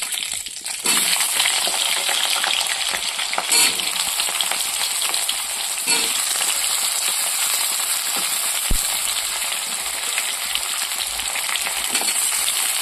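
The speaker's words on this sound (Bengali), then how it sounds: "এর মধ্যে আমি বেগুন আর আলুটা তুলে দেবো" Chunks of eggplant and potato sizzle steadily and loudly in hot oil in a home kitchen, a dense continuous frying hiss with occasional stirring scrapes and clicks, and no voices.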